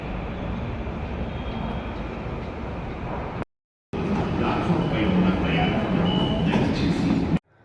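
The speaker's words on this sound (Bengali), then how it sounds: "এই যে একটা মেট্রো যাবে, দেখো দাঁড়িয়ে আছে ব্লু রঙের।" A blue Hyderabad metro train passes in front of a hotel with a steady, close rumble and whoosh of the carriages. Voices sound faintly beneath it, and there is a brief cutout in the middle.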